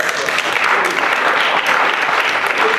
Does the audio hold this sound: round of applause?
yes